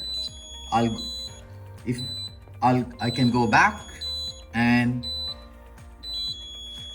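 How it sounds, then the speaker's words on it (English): A Hitech Power Sync 3680 caravan power system sounds repeated short, high electronic alarm beeps at a steady pace, heard close and clear beneath someone talking. "I'm going to quickly show you how to disable the alarm."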